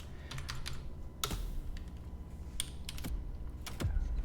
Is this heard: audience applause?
no